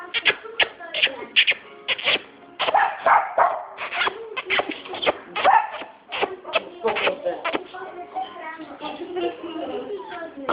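A Jack Russell terrier gives a rapid run of sharp, close barks and yips with a few whimpers in between, loud and busy, then settles into quieter whining toward the end.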